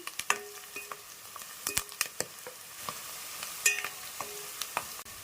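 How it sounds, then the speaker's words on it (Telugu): Onions fry in a pan, a steady sizzle broken by scraping stirs and sharp clinks of a spoon against metal, close and fairly loud, with no voices. "ఇప్పుడు చూడండి, మనకైతే బాగా ఆనియన్స్ ఫ్రై అయిపోయినాయి"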